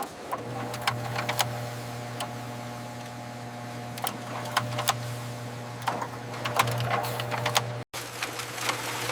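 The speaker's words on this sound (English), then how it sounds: "O2A cutters' circular blades spin at high speed" Vintage 1950s candle factory machinery runs steadily, with circular cutter blades spinning at high speed to trim braided candle wicks, giving a constant mechanical hum broken by sharp clicking cuts.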